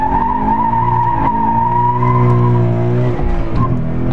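A Subaru BRZ slides through an autocross course, tires squealing in a long sustained howl over a loud, steady engine drone, close and intense for several seconds.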